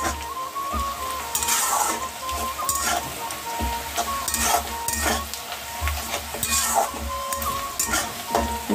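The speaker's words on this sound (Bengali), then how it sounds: "দেওয়া হয়েছে পেঁয়াজ আর তেজপাতা। এটা লাল লাল করে ভেজে নেব" Onions and bay leaves fry in hot oil in a pan, a steady sizzle broken by repeated scraping stirs of a utensil, close and clear with no talking.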